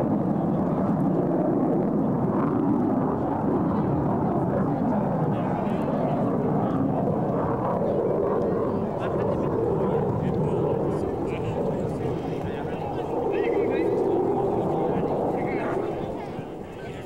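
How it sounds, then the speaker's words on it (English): Canadian Forces Snowbirds jets at the 2003 Kern County Airshow, a loud continuous engine roar that swells as they approach and pull up, with a commentator's voice over it. "watch as Marcia and Heed approach the field and rapidly pull the aircraft into the vertical"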